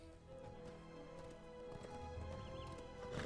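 Horse hooves clip-clopping in The Lord of the Rings Online, a steady trotting rhythm under game music, fairly faint and continuous.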